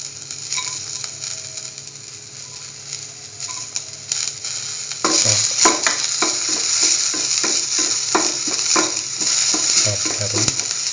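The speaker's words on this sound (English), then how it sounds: "Put in the ginger." Ginger sizzles in a hot pan, a quiet steady fry that turns louder halfway through as a utensil starts stirring and scraping with repeated clinks against the pan.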